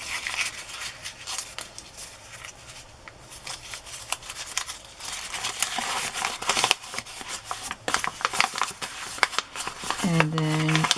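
Paper craft tag being crumpled by hand to distress it, a close, busy crinkling and crackling that builds over several seconds with speech-like tones at the end.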